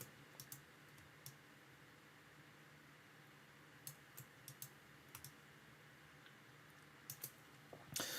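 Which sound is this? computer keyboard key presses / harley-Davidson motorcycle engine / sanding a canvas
computer keyboard key presses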